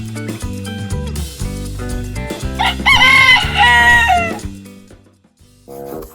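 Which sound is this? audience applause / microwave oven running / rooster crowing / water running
rooster crowing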